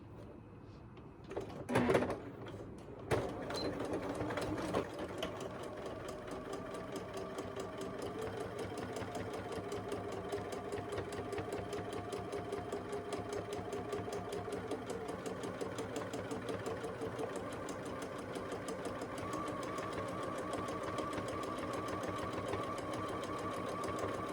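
A domestic sewing machine set to a 2.4 stitch length, stitching a phone holder: a few clunks at the start, then a steady, close mechanical whirr with rapid needle clatter that runs evenly on.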